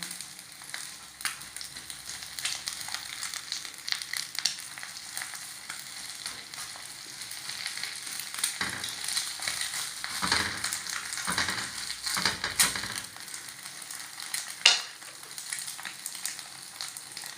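Egg frying in a pan for a homemade egg burger, a steady close sizzle and crackle throughout with a few scraping stirs and brief pops near the end.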